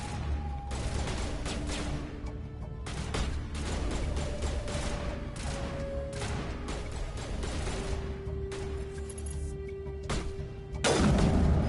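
Grenade blasts and gunfire in the Mass Effect game, Legendary Edition, a dense continuous barrage of loud shots and booms throughout, with sustained tones and a heavier burst near the end.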